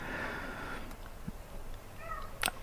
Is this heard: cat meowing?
yes